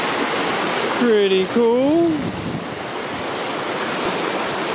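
A waterfall in a small gorge along the Icefields Parkway roars with a constant, rushing wash of falling water, close and loud, while someone briefly speaks over it partway through.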